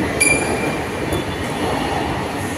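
Kolkata Orange Line metro train at a station, a steady rolling rumble with faint high wheel squeal near the start, continuous and fairly loud with no talking.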